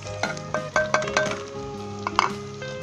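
Ginger, garlic and onion fry with spices for plum mutton, giving a soft sizzle broken by several sharp clinks and scrapes of a spoon against the pot.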